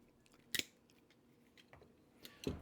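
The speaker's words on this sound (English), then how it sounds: "You can cut MC with these" A Klein Kurve wire stripper snips through MC metal-clad cable, giving two faint, sharp cutting clicks roughly two seconds apart in a quiet setting.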